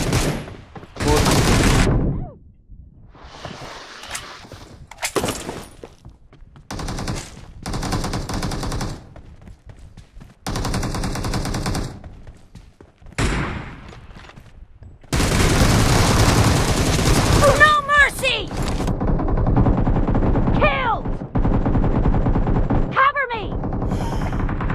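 Gunfire from a shotgun and a sniper rifle in PUBG, played through the GameLoop emulator on a PC, comes as sharp bursts of shots with silences between them. Later some shots fall under faint voice-like sounds.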